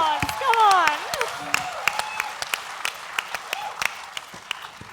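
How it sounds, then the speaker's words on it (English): Festival audience applause rises and falls in scattered claps over a crowd, with a person speaking loudly at the start, then sparse individual claps continuing to the end. "A round of applause, come on."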